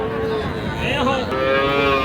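A calf moos in a drawn-out, wavering call, close and loud, over steady background noise at the Raniganj cattle market.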